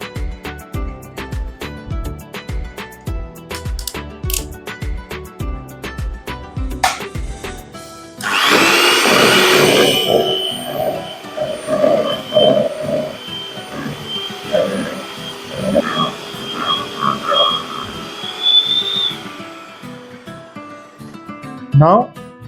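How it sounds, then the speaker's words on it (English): A hand blender creams butter and sugar for an eggless plum cake batter, entering after a stretch of music with a loud, steady whirring that runs about eleven seconds, shifting slightly in pitch, then cuts off. "Now I will take the hand blender and make a creamy mixture of our butter and sugar."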